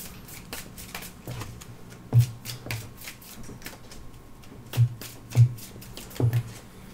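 Playing cards for the Netrunner card game are shuffled at a table, a series of soft riffling flutters broken by several sharper slaps and taps as the deck is handled, close and fairly quiet.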